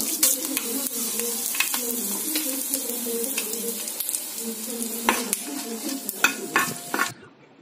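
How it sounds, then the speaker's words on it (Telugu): Mustard seeds, cumin and dried chillies crackle and sizzle in hot oil, a dense close spattering hiss with sharp pops scattered throughout before cutting off near the end. "ఆయిల్ హీట్ ఎక్కిన తర్వాత ఆవాలు, జీలకర్ర, తర్వాత ఎండుమిరపకాయలు"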